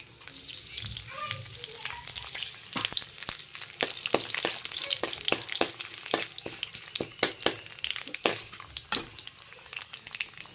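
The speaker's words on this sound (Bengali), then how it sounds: "তেলটা গরম হয়ে গেছে এই তেলেই দেওয়া দেবো কালা জিরা আর তেজপাতা" Nigella seeds and bay leaves drop into hot oil in a pan, crackling and sizzling steadily with frequent sharp pops and spatters, close and continuous throughout, with no voices.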